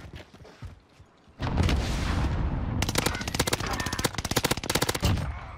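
Call of Duty Warzone gunfire on Rebirth Island as players shoot each other: after a quiet moment, loud sustained bursts of automatic fire break out and continue in rapid rattling volleys, close and dense.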